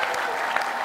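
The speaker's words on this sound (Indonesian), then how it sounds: "Tepuk tangan buat Anji!" Brief burst of audience applause for a performer named Anji, a dense, steady wash of clapping filling the whole moment.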